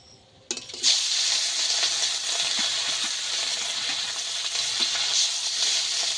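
Hilsa fish sizzles and fries steadily in a hot pan, a dense continuous crackle starting abruptly after a short quiet moment and holding loud and close throughout, with occasional stirring scrapes.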